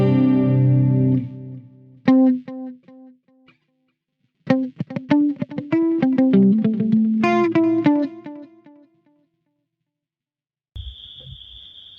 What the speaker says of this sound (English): I need a modulation type of delay